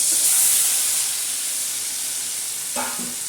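Ground yellow masala paste, blended with green chillies, coriander, garlic and coconut, drops into hot oil with turmeric and spices in a pan for a Surmai fish curry, giving a steady close sizzle and hiss with a brief stirring clatter near the end.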